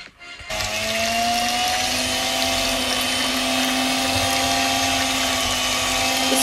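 An electric hand beater whips cream and condensed milk for homemade cheese ice cream, starting after a brief pause and then running as a steady, loud whirring drone with a constant motor pitch close to the mic.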